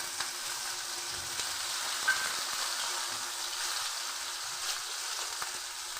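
Eggplant pieces fry in hot oil with a steady, dense, close sizzle that holds evenly throughout, with faint scattered clicks underneath and no talking.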